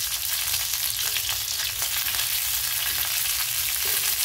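Slit green chillies frying and being pressed down on a heavy iron tawa, a loud, dense, continuous crackling sizzle heard up close with no pauses.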